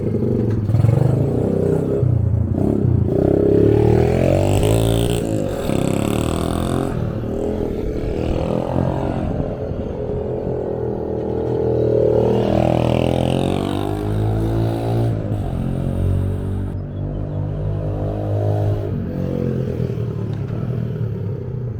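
Honda XR70 motorcycle with an 88cc big bore kit running on its first start after a rebuild, a loud close-up engine clatter that rises and falls in uneven revs, rough and mechanical throughout.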